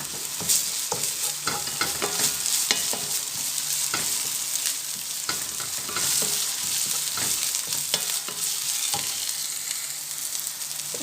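Ginger and garlic frying with onions in a pan for a coconut chicken curry: a steady, close sizzle runs throughout, broken by frequent scraping and stirring knocks, with no talk.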